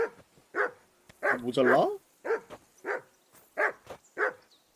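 A dog barks repeatedly in the medieval world of Kingdom Come: Deliverance 2, a series of sharp, evenly spaced barks close by with a louder whining yelp in the middle, and a voice mutters briefly between them.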